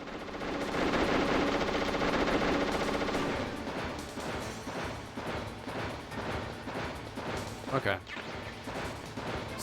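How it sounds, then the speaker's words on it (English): Stinger missile impacts in Metal Gear Solid land as a dense run of loud blasts and crashing booms, followed by rapid repeated bursts, with a short spoken word partway through. "Why am I getting stinger missiles?"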